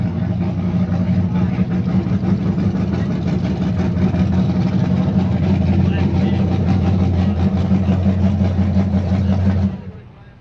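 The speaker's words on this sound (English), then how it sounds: "we'll wait for that car to get up here and shut down so we can hear you talking" A race car engine idles steadily at a dirt track, a loud, constant low rumble holding for about nine seconds before cutting off abruptly near the end, leaving near silence.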